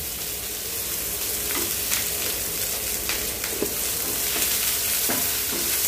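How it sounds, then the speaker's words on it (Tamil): Crushed garlic fries in a pan with garlic paste, curry leaves and green chillies, giving a steady, loud, close sizzle broken by light stirring scrapes, with no voices. "பூண்டு வந்து கொஞ்சம் நச்சு வச்சுருக்கேன். அதோடு சேர்ந்து நல்லா வதங்கி வரட்டும்."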